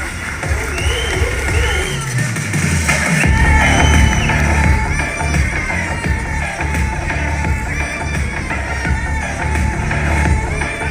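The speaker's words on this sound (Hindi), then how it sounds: "एक बार आपकी तालियां होनहार हमारे साथियों के लिए" A crowd at an award ceremony during the Kurukshetra film festival applauds and cheers loudly for honoured film artists. The sustained clapping and whoops blend with music and voices in a busy hall.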